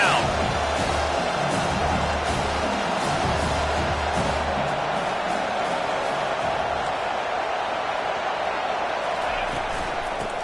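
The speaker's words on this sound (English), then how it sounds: "Decibels rising as the crowd gets behind this defense on 3rd down." Football stadium crowd roaring on a third-down defensive stand, a broad sustained wash of crowd noise filling the whole stretch, with a commentator talking over it.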